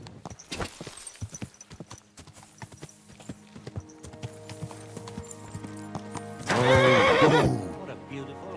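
In the video game Kingdom Come: Deliverance 2, hooves clop unevenly on a hard surface, then a horse lets out a loud, wavering whinny nearby.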